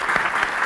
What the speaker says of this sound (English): Give her a round of applause, folks.